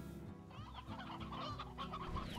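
Hens cluck in a short, busy burst of overlapping calls in the game Slime Rancher, fairly close and set over a low, steady background hum.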